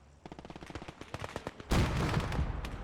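Machine gun fire in the WWII strategy game Gates of Hell, a rattling string of shots that gives way to a loud sustained blast or explosion-like roar, with no talk.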